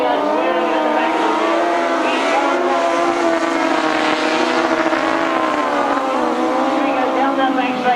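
Grasstrack sidecar outfits race at a 1992 British Masters qualifier, several engines roaring together in a continuous loud, buzzing drone that rises and falls as they pass, with a commentator talking over the noise.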